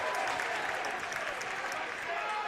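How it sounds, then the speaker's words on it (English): Crowd cheering and applauding at a college fraternity hockey tournament game in an arena, a dense, steady roar of clapping and voices filling the whole stretch at moderate level. "A lot of crowd noise here after that sequence"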